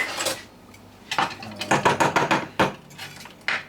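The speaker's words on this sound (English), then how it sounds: "Now you're whisking a little pan" Rapid metal whisk strokes rattle against a small pan of lumpy bechamel sauce, coming in close, loud bursts of scraping and clinking separated by brief pauses.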